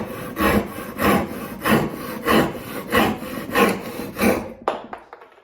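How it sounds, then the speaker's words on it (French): A Japanese rip saw cuts through wood with about eight rhythmic rasping strokes, steady and close, before the last stroke trails off into near silence. "Maintenant, pour voir la différence, on va y aller avec la scie à refendre."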